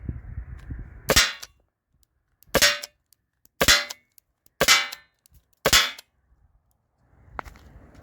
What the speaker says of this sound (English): So that was 5 shots. I think my first hit was right here, and then I'm hitting like right here after that.